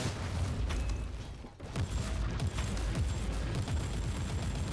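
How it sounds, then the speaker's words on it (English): A grenade explosion in a video game, a loud deep boom amid a steady roar of gunfire and blasts that continues throughout, with a brief dip before the noise surges again. "Let's chuck a grenade on there."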